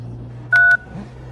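A single short telephone keypad tone, a crisp DTMF beep while a number is dialled, stands out against a quiet room with a low steady hum.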